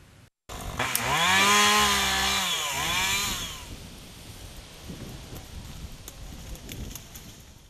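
Chainsaws clear trees and bushes near airport hangars, one saw revving loud and close with rising and falling engine pitch before dropping away, leaving a rumbling, noisy outdoor background.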